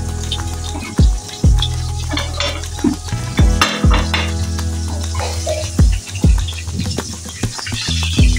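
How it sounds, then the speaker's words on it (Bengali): Fish frying crisply in hot oil, a loud close sizzle broken by repeated sharp pops and spatters and the scrape of stirring, with no one talking. "মাছটা খুব কড়া করে অনেক সুন্দর করে ভাজা হচ্ছে"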